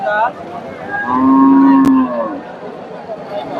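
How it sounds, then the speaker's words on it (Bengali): A large Friesian dairy cow at a cattle market gives one loud, close, drawn-out moo lasting about a second, with a sharp click and faint market background around it. "এখানে একটা বেশ বড় দুধের গাভী দেখতেছি এটা ফ্রিজিয়ান"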